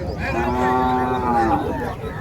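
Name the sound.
pair of native bulls mooing at cattle market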